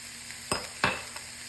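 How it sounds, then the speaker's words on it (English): Sliced mushrooms sautéing in a pan with garlic powder and salt: a faint, steady sizzle broken by two sharp stirring scrapes close by, with no talking. "we're gonna let all that saute together, get those mushrooms kind of sauteed on there for a minute"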